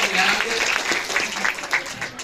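An audience at a motivational talk in the Sevadham ashram in Ujjain claps in a brief, dense burst of applause, with a speaker's voice over it.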